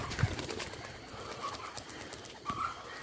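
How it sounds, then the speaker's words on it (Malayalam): Pigeons released from a loft at dawn, soft intermittent cooing calls over faint ambient noise, with a light thump of movement early on. "പ്രാവുകൾ അങ്ങനെ പറന്ന്"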